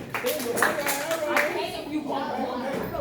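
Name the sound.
audience clapping hands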